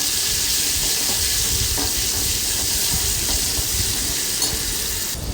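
A spoonful of green paste made from coriander, green chili, garlic and ginger sizzles steadily in hot oil for a rustic egg curry, a loud, even frying hiss that holds throughout with no voices.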